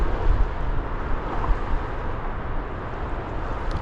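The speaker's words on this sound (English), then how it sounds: "this wind has really picked up" Strong wind buffets the microphone on an open beach beside an estuary, making a constant, loud low-frequency rumble that covers everything else, with no voices present.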